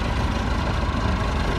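A Massey Ferguson 290 tractor, carrying rice paddy beside a river, runs with a steady, close, low diesel drone that holds an even idle throughout with no breaks.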